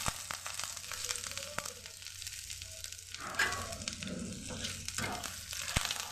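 Grated ginger sizzles and crackles steadily in hot oil in a pan, with occasional stirring scrapes and no talking.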